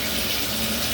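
Water gushing from a newly installed bathtub shower spout, a steady loud rushing flow close by, unbroken and alone.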